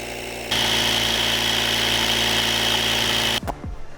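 An electric pump inflating an eBike front tire to 15 PSI, a loud steady buzzing motor drone starting abruptly, running for about three seconds, then cutting off with a brief clunk.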